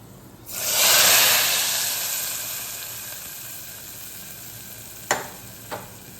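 Sweet potato payasam is poured into hot ghee tempered with cashews and raisins, setting off a loud burst of sizzling hiss that slowly fades, followed by two small clinks near the end; no one speaks.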